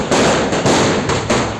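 Fireworks fired from the open sunroof of a car during a wedding celebration in Saharanpur, a loud rapid crackling barrage of bangs close by.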